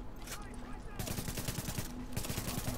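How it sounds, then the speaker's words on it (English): Blind fire in The Division on PS4 sounds as sustained rapid automatic gunfire in two long bursts separated by a short pause, loud and close. "Blind fire."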